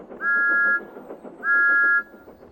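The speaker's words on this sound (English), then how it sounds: "Thomas's whistle sounds like this in the countryside." A steam engine's whistle in open countryside sounds two clear, steady blasts of similar length with a short gap between them, loud and dry with no echo.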